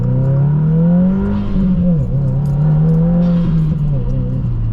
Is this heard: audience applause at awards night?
no